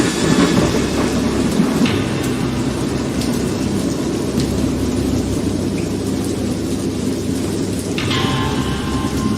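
Steady heavy rain pours while deep thunder rumbles on and off, with a sharper crack near the end, from a thunderstorm in the video game Dagon.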